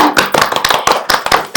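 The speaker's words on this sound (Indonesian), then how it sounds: "Tepuk tangan lah untuk siar dulu." A few people clap at a podcast recording for an event organizer, giving a short burst of sharp, uneven hand claps close to the microphone with no talk.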